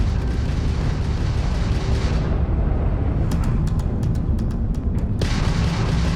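Spaceship weapons fire in the space combat game Starfield, a loud continuous roaring barrage with a row of sharp cracking bursts in the middle and booming rumble throughout.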